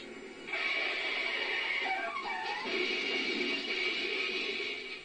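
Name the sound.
puppy whimpering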